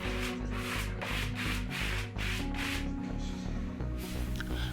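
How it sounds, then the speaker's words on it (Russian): A spatula is worked in a herringbone pattern across freshly laid floor covering during a parquet floor replacement, producing repeated close scraping, rubbing strokes in a steady rhythm with no talking. "проходимся шпателем по центру, потом проходимся елочкой"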